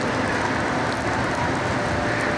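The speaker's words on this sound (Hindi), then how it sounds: "यहाँ पे बारिश हो रही बहुत ज़बरदस्त" Steady, heavy rain pattering on surfaces in Madina, a continuous close hiss with no pauses and no voices.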